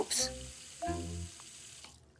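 Water runs from a tap in a cartoon, with a short gushing splash followed by a second stream as a sustained tone carries underneath, bright and close, then fading out.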